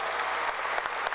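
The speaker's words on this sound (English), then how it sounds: "Give them a round of applause." A brief burst of audience applause for dignitaries from the FAA, organized labor and the airlines at a ceremony marking completion of the O'Hare Modernization Program, a dense, even clatter of many hands.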